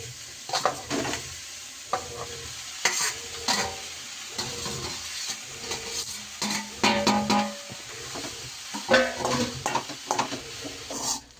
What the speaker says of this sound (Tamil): நம்ம ரைஸ் இப்போ சாதத்தை போட்டு கிளறிக்கலாம்